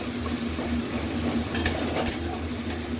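Onion, garlic, ginger and tomato masala sautéing and being stirred in a pan for egg curry, a steady close sizzle with a few brief scraping clinks of the spoon.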